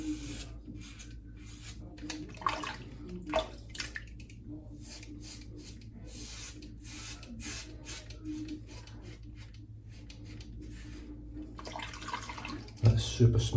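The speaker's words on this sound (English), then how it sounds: "Now I'm going to rinse this razor a little bit more regular than I do the Gillette" Tap water running while a safety razor is rinsed at a sink, an uneven spattering stream broken by short splashes and clicks, fairly faint, with someone talking over parts of it.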